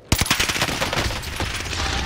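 Rapid automatic gunfire in the Call of Duty Vanguard Warzone video game on the Rebirth Island map, a loud sustained burst of shots starting abruptly and running without pause.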